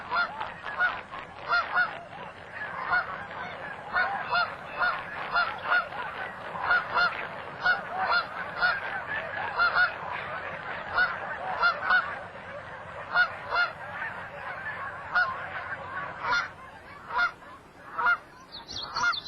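A flock of Taverner's geese, a short-necked Canada goose form, honking continuously in overlapping, repeated calls at moderate distance over a soft background, with no voices.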